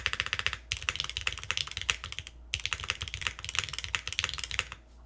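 Typing on a Neo98 mechanical keyboard with Cherry switches makes a dense, even stream of close, crisp clacks, broken by two short pauses, with no voices.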